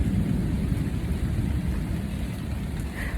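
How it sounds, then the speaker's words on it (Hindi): Heavy rain pours outside while people shelter under the roof of a small mosque, making a steady, dense hiss and roar with a low rumble underneath and no voices. "क्योंकि बाहर बहुत ज़्यादा बारिश हो रही है।"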